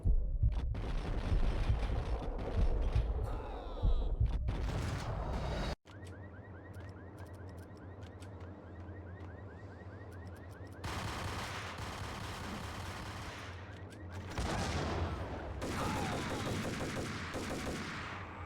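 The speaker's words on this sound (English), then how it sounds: "So it's like a combat shotgun." Repeated combat shotgun blasts in the Max Payne video game, with dense bursts of gunfire in the opening seconds and a later stretch of sustained shooting over a steady rumbling game backdrop.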